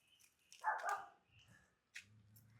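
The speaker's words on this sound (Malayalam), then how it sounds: "ചുമച്ചും കുറച്ചുമൊക്കെ നടക്കണ പട്ടി" A dog gives a couple of sharp barks close by, followed by a softer, lower whine or yelp, with quiet gaps between the sounds.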